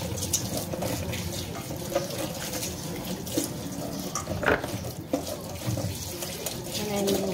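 Running tap water pours steadily into a kitchen sink as baby carrots and other vegetables are rinsed, a continuous close splashing with occasional knocks and clatters.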